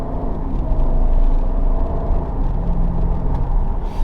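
A car with a ZF 8HP automatic transmission, freshly overhauled, on a test drive under hard acceleration, with a loud continuous low engine and road rumble heard from inside the cabin, no voices.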